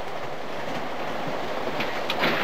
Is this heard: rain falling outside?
no